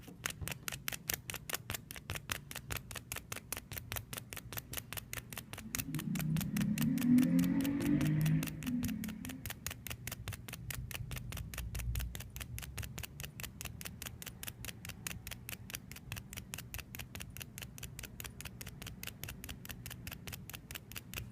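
A magnet stroked quickly and repeatedly along a metal paper clip makes a steady run of fast, faint scratching ticks, close and regular, continuing throughout without speech.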